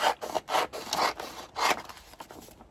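Paper being cut with scissors to make journal signatures, a run of short scraping snips close by, several quick strokes, then softer rustling as the cutting eases off.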